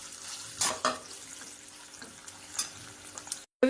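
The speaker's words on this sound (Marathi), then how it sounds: "कांदा, मिरची आहे हे टाकूया कढईमध्ये आणि भाजून घेऊया" Chopped onion and green chili fry in oil in a wok, with a soft sizzle under sporadic spatula scrapes and clinks, close and fairly quiet, ending in a brief cut and a sharp louder burst.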